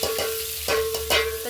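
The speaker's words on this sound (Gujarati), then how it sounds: "મેં બધું સાતળવા નાખી દીધું છે." Ingredients for pasta saute in a pan: a short, even sizzle with a couple of soft stirring knocks and a faint repeating tone underneath, heard alone without talking.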